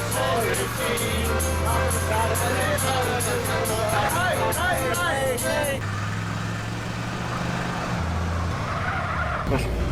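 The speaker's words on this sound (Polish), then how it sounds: "Chyba sprawny ten samochód jest." Car driving and skidding in Grand Theft Auto San Andreas, with a steady engine drone, tire squeals sweeping through the first half and a shift in tone midway, all loud and continuous under game sounds.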